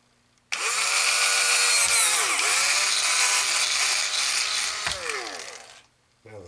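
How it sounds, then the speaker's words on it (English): A power drill with a 1/8-inch bit runs for about five seconds while building a trap vertical antenna, its whine dipping twice as it bites into material, then stops. "back to the 1/8 inch drill bit"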